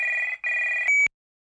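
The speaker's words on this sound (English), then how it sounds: "Wait, my phone's ringing." Mobile phone ringing nearby: two loud electronic trill bursts with a short gap between them, followed by a sharp tone before it cuts to silence, with no talk.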